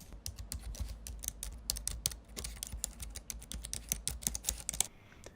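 Mechanical keyboard typing effect played back on a website, a rapid, steady stream of crisp clicky keystrokes at close range that stops abruptly near the end, with no talking.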